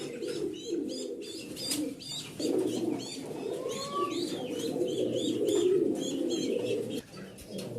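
Pigeons on a pigeon farm coo and call steadily throughout, layered murmuring coos with occasional sharper chirps, close and continuous.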